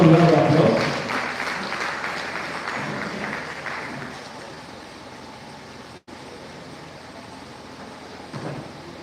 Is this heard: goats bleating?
no